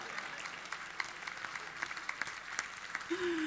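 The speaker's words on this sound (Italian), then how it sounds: "Faccio un applauso a tutte le mamme" A crowd claps in a packed gallery at a Sicilian Christmas event, with steady, dense applause at moderate distance, scattered sharper claps standing out, and a brief whistle near the end.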